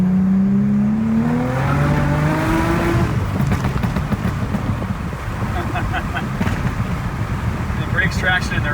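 An all-wheel-drive 2000 Audi B5 S4 accelerating hard in second gear, its engine note climbing steadily in pitch over the first few seconds, then a loud continuous roar with wind and road rumble.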